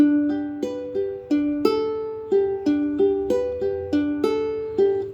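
Ukulele notes plucked one at a time in a steady, repeating fingerpicked pattern, bright and close, each note ringing briefly before the next.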